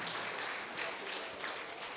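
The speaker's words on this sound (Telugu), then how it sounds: "గట్టిగా చప్పట్లతో." Steady audience applause at a spiritual music and meditation gathering, even, continuous clapping at moderate level.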